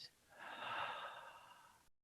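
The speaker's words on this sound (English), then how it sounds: "we're going to take a deep breath" One long, deep breath out, soft and close, swelling then trailing away over about two seconds during a children's worship mountain-pose exercise.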